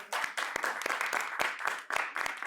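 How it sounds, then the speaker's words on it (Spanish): An audience at a talk on digestive health gives the guests a round of applause, fairly close, with irregular bursts and sharper individual claps. "Le damos un aplauso aquí a los invitados"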